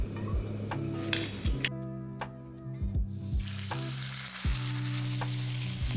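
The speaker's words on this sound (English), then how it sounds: "Spread it as much as you can so that most of the beef is in contact with the wok and so that it sears." Two pounds of ground beef searing in a smoking-hot oiled wok, giving a steady close sizzle and crackle. Sharp metallic ticks and scrapes of a utensil spreading the meat cut in and out.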